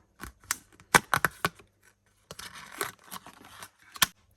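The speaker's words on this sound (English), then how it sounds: "I'm then going to cut it out with some scissors." Scissors snip through paper while a small doll shoe shape is cut out for a crochet project, giving a cluster of sharp, close crunching cuts, a brief pause, then another burst of quicker snips ending in one crisp cut.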